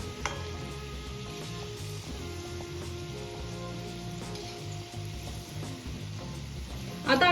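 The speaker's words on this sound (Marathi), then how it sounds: "आपल्याला छान क्रिस्पी होईपर्यंत बाकरवडी तळून घ्यायची आहे" Bhakarwadi deep-frying in hot oil, a steady crackling sizzle that runs evenly throughout, close and moderately loud, with a brief louder burst at the very end.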